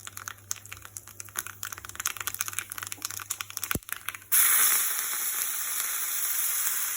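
Hot oil sizzling as garlic chutney tempering fries with asafoetida, a steady crackling hiss that surges loud and continuous partway through, with no talking.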